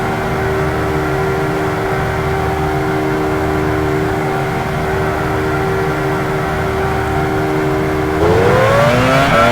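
A Formula 1 car in F1 Challenge idles steadily in the pit lane with a constant buzzing engine drone, rising into a sharp rev near the end.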